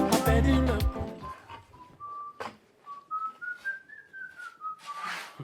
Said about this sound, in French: j'ai remarqué que tu travailles toujours en sifflotant